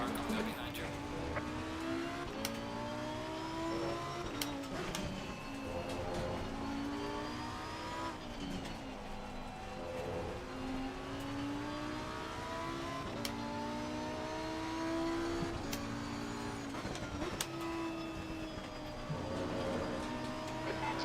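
GT3 race car engine in Assetto Corsa Competizione at Hungaroring, a continuous droning engine rising and falling through gear changes with other cars nearby and occasional radio talk.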